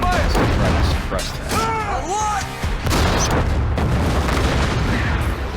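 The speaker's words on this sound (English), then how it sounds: "that big explosion you saw there, that was what an armored vehicle looks like when it gets hit" An armored vehicle hit by an armor-piercing shell at a military firing range erupts in heavy booming blasts, loud and repeated, mixed with gunfire rattle and shouted commands throughout.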